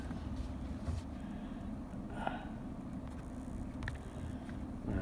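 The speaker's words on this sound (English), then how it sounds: "I'm just driving around with a truck." A truck drives slowly around a cattle pasture, its engine a faint, steady low rumble from inside the cab, with light rattles and bumps over rough ground.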